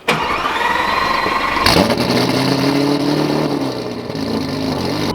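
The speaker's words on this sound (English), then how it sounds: "I just realized that cold start was pathetic because the valves are closed and now they're open" A McLaren 570S sports car engine cold-starts, roaring to life and running loudly, its tone dropping into a deeper, steadier rumble partway through as the exhaust valves open.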